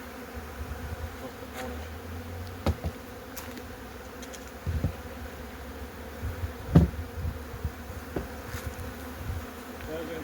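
Honey bees at an apiary hive hum in a dense, continuous drone, close and steady, with occasional soft knocks and bumps from handling the hive.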